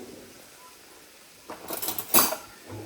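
A metal ladle and a frying pan are picked up and handled in a home kitchen. After a quiet start there is a short burst of clinks and clatter, then faint movement.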